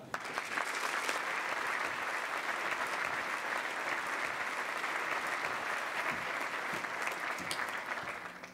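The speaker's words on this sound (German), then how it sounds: "Meine Damen und Herren, freuen Sie sich und begrüßen Sie recht herzlich mit mir, Gin Meyer." An audience at a 2019 corporate conference in Germany applauds to welcome a speaker on stage, a steady, even wash of clapping from many hands that lasts the whole time and sounds somewhat distant.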